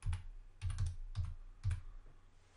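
Typing on a computer keyboard, four or five short clusters of keystrokes separated by brief pauses, close and fairly quiet, no voices.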